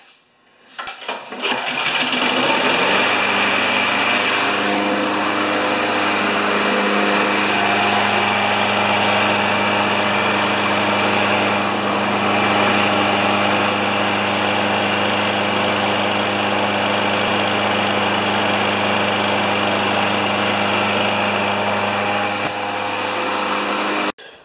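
John Deere 14PZ push mower with an intermittent-start fault, its small gas engine catching and then running loud and steady at high RPM for over twenty seconds, with no talk.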